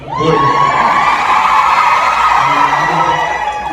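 Crowd at a Supernatural convention main panel in Vancouver cheering and whooping loudly, a dense sustained roar of shouts and screams filling the whole stretch without pause.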